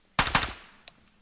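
Gunfire in the game Garry's Mod, with two quick sharp shots in rapid succession followed by a faint click.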